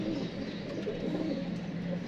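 Young pigeons in training cooing close by, soft low throaty coos repeating over a steady background hiss, with a voice faintly present.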